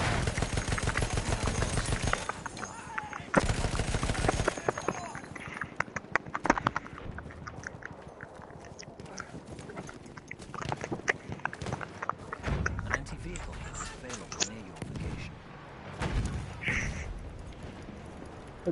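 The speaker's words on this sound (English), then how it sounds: "Gonna use a stationary gun." A stationary mounted gun fires in a video game: loud, sustained bursts of gunfire that come and go, mixed with horse hooves clip-clopping nearby.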